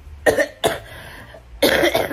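Three harsh coughs, close and loud, spaced unevenly with brief quiet gaps between them.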